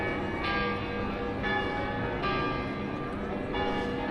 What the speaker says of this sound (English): that's what people are waiting to hear, is the bells.